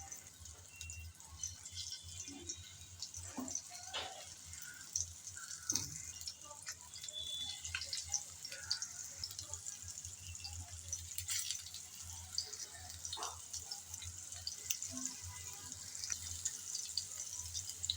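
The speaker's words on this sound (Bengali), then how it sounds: "এখন একটা একটা করে মাছ আমি এই তেলে দিয়ে দেব।" Pangas fish pieces fry in hot oil in a pan, giving a steady close hiss of sizzling with scattered small pops and crackles throughout. It is fairly quiet, with no talking.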